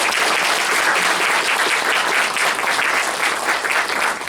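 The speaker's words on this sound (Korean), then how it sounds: "네, 큰 박수 보내드리겠습니다." A church congregation applauding loudly and continuously, dense sustained clapping filling the room throughout with no talk over it.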